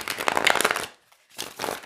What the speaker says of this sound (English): But I'm going to shuffle again, especially for those new to tarot.